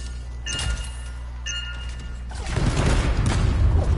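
A detonation in a sci-fi shooter game goes off as a broad, roaring blast that swells midway and rumbles on to the end, preceded by sharp metallic clinks and shattering hits.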